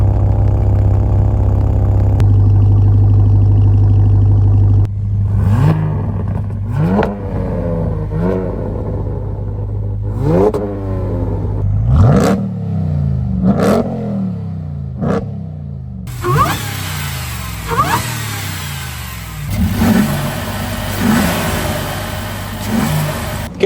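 A Ram RHO pickup truck engine idles with a deep steady drone, then revs up repeatedly in rising roars, close and loud, with a harsher rumble near the end.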